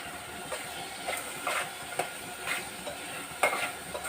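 Chicken curry with garam masala sizzles in a pan as it is stirred, with steady frying hiss and a scrape of the spoon about every half second, close and moderately loud, with no talking.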